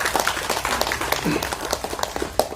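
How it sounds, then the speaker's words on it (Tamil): Scattered clapping from a small audience at a Tamil event about an OTT platform for low-budget films, light, uneven hand claps that thin out over a couple of seconds. "அவருக்கு முதல்ல ஒரு நல்ல கைத்தட்டு கொடுக்கணும்"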